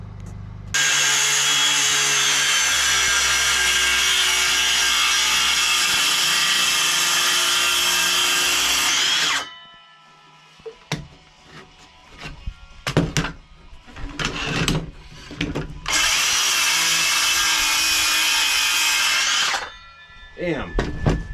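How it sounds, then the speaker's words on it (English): A new DeWalt circular saw cuts wood during an off-grid sauna build, with two long, loud, steady whining cuts separated by clattering handling and knocking of boards, close by. "I love this new DeWalt circular saw"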